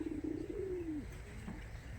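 A pigeon at a farm loft gives one drawn-out cooing call that slides downward, close by over a faint background hum.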